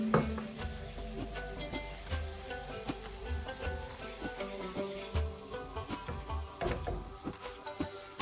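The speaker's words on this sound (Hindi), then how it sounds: "साथ साथ हमने चम्मच चलाते रहना है ताकि लम्स ना बने।" Flour being stirred with a spoon over a low flame for lasagne sauce, a steady close sizzle with repeated scraping strokes running throughout, no voices.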